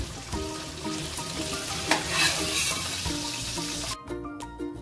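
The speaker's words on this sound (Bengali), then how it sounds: "বাকি মাছগুলো এভাবে ভেজে নেব।" Pomfret fish frying in hot oil gives a close, continuous crackling sizzle with a brief louder burst around two seconds, over a faint tonal background that may be music.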